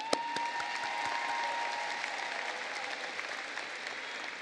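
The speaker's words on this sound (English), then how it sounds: "let's give a round of big round of applause" Audience applause at a Hampton High School graduation ceremony, a steady wash of clapping from a large crowd that holds evenly for several seconds, with a few sharper close claps near the start.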